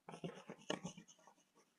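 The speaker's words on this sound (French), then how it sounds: "Je vais écrire ça." Handwriting with a pen or marker, heard as a quick series of close, soft scratching strokes that trail off near the end, in a classroom-style lesson setting.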